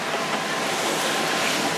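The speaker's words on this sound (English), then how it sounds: "these waves have got big. Probably 2 meters, 6 feet." Large ocean waves around two meters high wash steadily against a sailboat on passage to Puerto Rico, a loud, constant roar of surf and wind with no talking.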